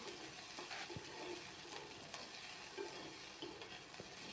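Chopped onion frying in a pan for Bangladeshi garlic vorta, a steady close sizzle with occasional stirring scrapes, heard alone with no talk.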